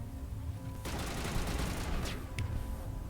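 Assault rifle fire in the video game Mass Effect: Legendary Edition, a sudden rapid burst of automatic shots that starts partway in and rattles on to the end, fairly faint.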